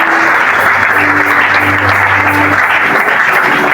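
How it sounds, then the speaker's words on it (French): An audience applauding and cheering, with loud, steady clapping from many hands and a faint sustained voice or tone running beneath part of it. "Est-ce que quelqu'un peut acclamer pour nous?"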